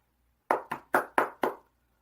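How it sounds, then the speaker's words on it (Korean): Five sharp hand claps in an even, quick rhythm, close and distinct against silence. "박수를 치고 싶습니다"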